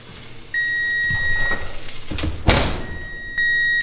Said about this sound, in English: our timer just went back off